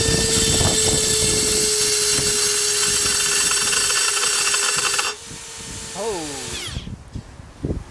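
A Makita 40v cordless die grinder with a burr whines at high pitch and grinds metal for about five seconds, then winds down as the motor spins off, followed by a person speaking close by.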